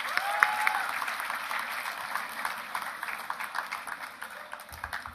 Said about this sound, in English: Students, please applaud loudly for our achievers